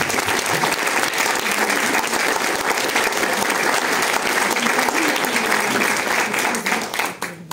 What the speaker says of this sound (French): je vais souhaiter la bienvenue à Corinne, vous pouvez l'applaudir très fort